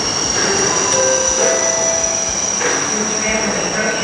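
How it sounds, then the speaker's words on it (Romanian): A Santa-themed train rumbles steadily along with a high squealing whine and faint rhythmic clatter, loud and close throughout, with no voices. "Trenul lui Moș Crăciun."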